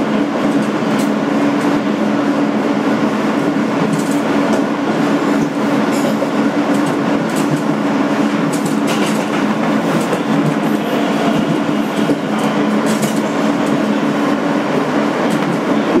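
A 2008 Kawasaki R-160B subway car, #8842, runs as an N local on the BMT Sea Beach line, a loud continuous motor hum and rail roar with rhythmic wheel clatter and brief squeals, without speech.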